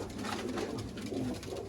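Pigeons offered for sale coo softly, a short, low, burbling murmur with overlapping calls, faint and close, with no talk over it.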